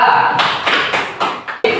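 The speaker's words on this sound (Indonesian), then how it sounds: "Tepuk tangan untuk kelompok 1" A classroom of students clapping together in applause, a short burst of loud, close rhythmic claps with a few distinct beats before it stops.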